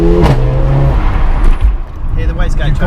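A Mercedes A45 AMG fitted with a Remus exhaust and intake revs loudly and close by, with turbo flutter and wastegate noise. People talk over the engine the whole time.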